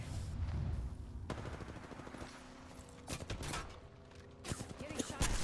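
Gunfire in the video game Apex Legends: sharp bursts of rapid automatic shots in several clusters, loud and close, mixed with game effects and a voice speaking over parts of it.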